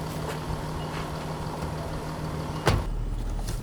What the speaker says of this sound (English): swinging the butt of the van back in that direction and then trying to just go back nice and straight